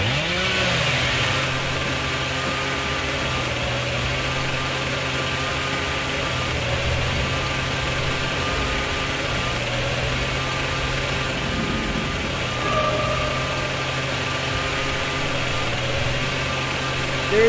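Chainsaw engine in the video game Dead by Daylight running steadily at a mid-pitched drone, loud and continuous, with slight shifts in revving across the stretch.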